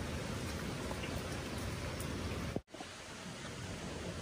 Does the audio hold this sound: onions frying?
no